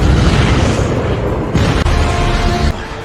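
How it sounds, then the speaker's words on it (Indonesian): Heavy missile-strike explosions from a war film battle against North Korean soldiers, loud deep booms rumbling back to back with a sharp burst near the middle and a rolling tail. "tiba-tiba di sekelilingnya muncul ledakan hebat yang diakibatkan dari serangan rudal Eddie ke tentara Korea Utara."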